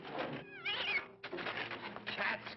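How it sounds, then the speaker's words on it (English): A cat meows a couple of times in quick succession, close and fairly loud, with some rustling background noise. "Cats again."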